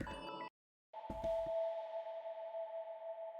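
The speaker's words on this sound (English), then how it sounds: "Just like sine wave plucks here with a bunch of reverb and stuff" Synth sine-wave plucks drenched in heavy reverb ring out as a sustained, glassy tone with a long, smooth tail after a brief silent gap, fairly soft and electronic.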